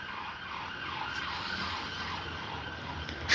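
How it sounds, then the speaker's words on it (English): Emergency vehicle sirens in the UK wail in slow rising and falling sweeps from a distance, faint over a steady outdoor background hum, with no one speaking. "So many sirens."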